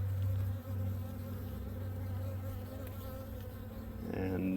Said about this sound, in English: Enough for the bees to be out, but not enough for it to be very active.